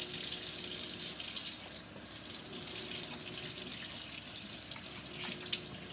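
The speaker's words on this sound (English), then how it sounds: "It still doesn't have a smell as I wash my hands." Water runs steadily from a tap into a sink while hands are washed and scrubbed with charcoal soap, a constant close splashing rush with no talking.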